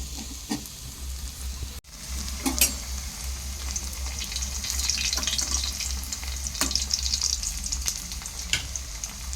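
Pitha cakes frying in oil in a pan over a village clay stove, a steady close sizzle with faint stirring clinks and scrapes and a brief dip partway through.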